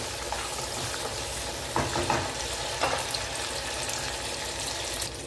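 Onions and green chillies sauté in hot oil with a steady close sizzle, broken by a few scraping stirs of a spoon against the pan.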